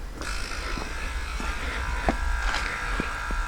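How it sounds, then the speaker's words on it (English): Tesla Model S air suspension compressors running, a steady close electric buzz with a few faint clicks, raising the car's ride height. "You can hear the compressors come to life."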